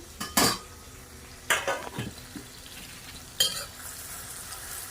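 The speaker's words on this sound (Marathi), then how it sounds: "थोड्या याच्यामध्ये परतून घेऊ छानपैकी" Onion, coriander and masala fry in a pan with a soft sizzle while a spoon stirs and scrapes in three distinct bursts, close and fairly quiet.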